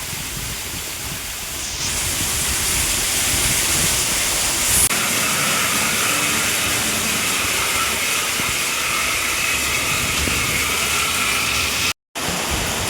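Floodwater rushes along a road after heavy rain, a loud, steady broadband roar of flowing water that swells after the first two seconds and holds close and continuous, with a brief dropout near the end.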